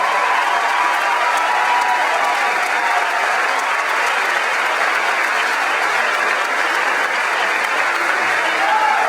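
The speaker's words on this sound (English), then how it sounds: "Please give him an outstanding round of applause." A large crowd at an Obama political rally applauds steadily, dense continuous clapping held at full loudness throughout, with no voices standing out.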